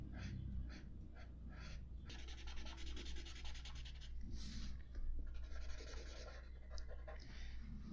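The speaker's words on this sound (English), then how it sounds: "grab your Sharpie, your black Sharpie, and fill all of it." A black Sharpie marker scribbles steadily across paper, filling in a cut-out circle with continuous close, soft scratching strokes that pause briefly and resume.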